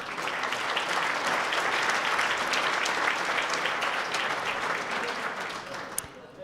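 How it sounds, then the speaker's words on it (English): Sustained audience applause fills a hall at a Hudson Chamber of Commerce and Tourism Bureau annual celebration, steady dense clapping throughout that begins to thin near the end. "A round of applause."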